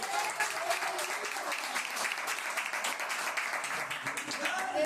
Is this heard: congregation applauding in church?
yes